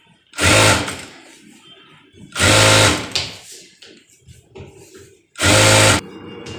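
A sewing machine stitches a lining onto a fabric edge for a sleeve in three loud, fast bursts of whirring, separated by pauses filled with quiet handling of the cloth.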